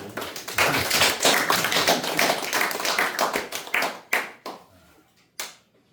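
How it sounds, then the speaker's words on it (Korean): Audience applause at a lecture on classical Korean poetry, dense clapping for about four seconds, then thinning into a few scattered claps that fade out. "박수 한번 쳐야죠"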